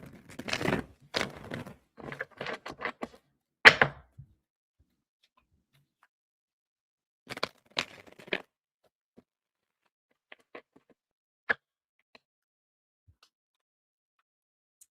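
Tarot cards being shuffled during a live reading, heard as a cluster of crisp riffling and tapping bursts near the start, then a few sparse clicks and light taps scattered through long quiet stretches.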